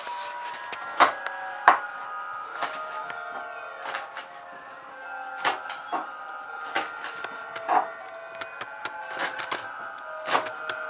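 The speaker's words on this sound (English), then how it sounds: "I'm just gonna cut it all up into little pieces." A knife chops salad vegetables into little pieces on a board, sharp separate knocks and cuts at an irregular pace, close and clear over a quiet background.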